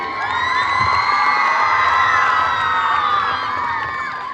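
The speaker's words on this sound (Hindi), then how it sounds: "लेकिन फिर भी जोरदार ताली" A school audience of children at an annual award function cheers and whoops loudly, a dense sustained roar of young voices with shrieks rising over it, steady for about four seconds.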